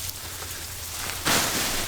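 Steady cold winter rain patters across a farm, a constant broadband hiss that swells noticeably louder partway through as the downpour intensifies, with no voices present.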